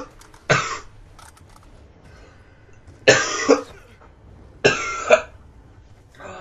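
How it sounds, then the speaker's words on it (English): Three separate coughing bursts, close and loud, spaced a couple of seconds apart with quiet between them, each with a short double hack. "And I'm about to cough, so sorry."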